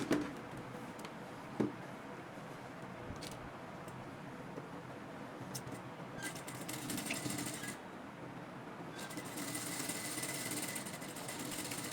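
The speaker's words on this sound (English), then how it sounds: "you go ahead and stitch this edge, and then you stitch here together" A sewing machine stitches the edge of palazzo pants in a steady, continuous mechanical whir with a faint rapid ticking, running at a moderate level for the whole stretch, and its speed shifts slightly partway through.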